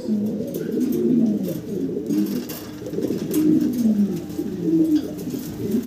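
Pigeons at a breeder's loft cooing, repeated soft throaty rolling calls rising and falling in a steady rhythm, close and clear with no talking.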